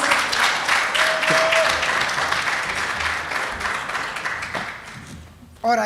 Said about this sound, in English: Can you give him a big round of applause?